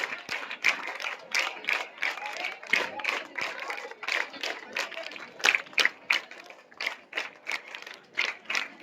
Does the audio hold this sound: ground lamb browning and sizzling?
no